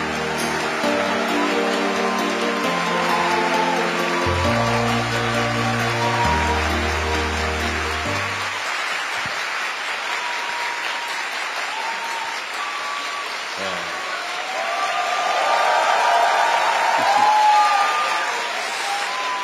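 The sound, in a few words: audience applause welcoming the speaker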